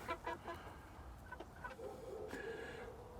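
A rooster and hens in a mixed backyard flock cluck in short bursts, moderately near over quiet outdoor background, with no voices.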